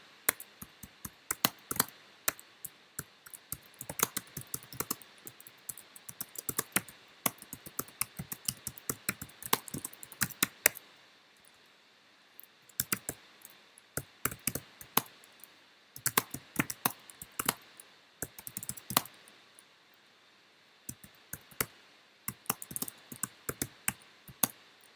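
Ad text being typed on a computer keyboard: steady close key clicks in quick bursts with short pauses between them, heard alone without talk.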